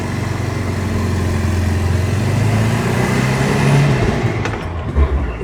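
A car's engine runs steadily and loudly close by as the vehicle moves forward, giving a continuous low rumble that rises slightly toward the end and is followed by a couple of brief knocks, with no talk over it.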